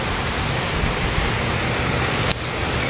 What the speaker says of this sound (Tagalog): Napasok ng ulan.